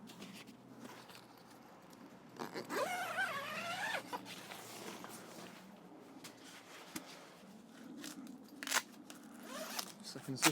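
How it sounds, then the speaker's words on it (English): Zip being drawn along on an inflatable drive-away awning, a rasping run near the start followed by quieter handling rustles and a few sharp clicks, heard close up outdoors. "Second zip here."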